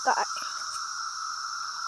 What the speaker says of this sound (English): Look, a cicada.